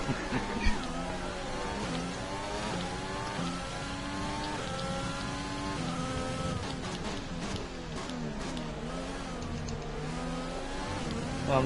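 An F1 race car engine in a racing game screams at high revs, its pitch climbing and falling through repeated gear shifts, steady and loud from start to finish.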